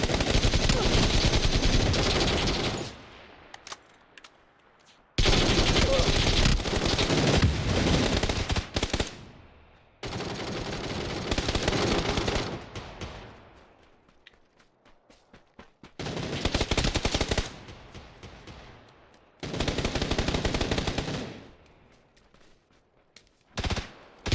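AK rifle fire in the shooter game Splitgate 2: five long, loud bursts of rapid automatic fire, each a few seconds long, separated by brief near-silent gaps.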